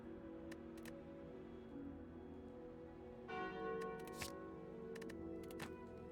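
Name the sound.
Curse of the Bell tolling in a video game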